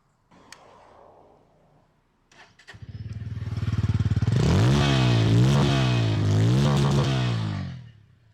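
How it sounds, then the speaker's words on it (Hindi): A Bajaj Pulsar N160 motorcycle starts up and its exhaust rumbles loudly, rising through a few throttle blips that swell and fall back, close by. "पांचवा रीजन था इस बाइक का एग्जॉस्ट साउंड"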